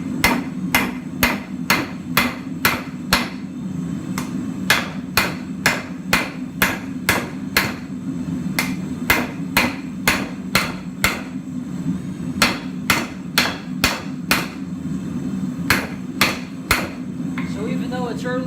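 Cherry-red hot steel for a square bottle opener knife is hammered flat on an anvil, sharp ringing blows landing in quick regular bursts with brief pauses, loud and close.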